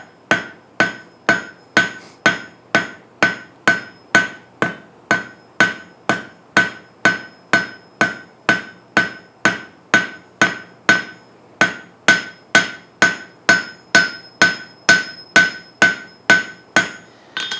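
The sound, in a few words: hammer forging and spreading hot steel for candle holder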